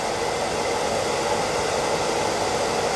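A hair dryer dries dogs at home. It gives a continuous, even, close whooshing roar with no change in level and no talking.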